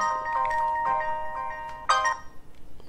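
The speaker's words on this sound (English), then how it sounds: "I'm going to get a notification." A phone sounds a tonal notification jingle triggered by a Raspberry Pi motorcycle alarm, a short melodic alert playing alone, then a brighter final chime before fading into soft clicks.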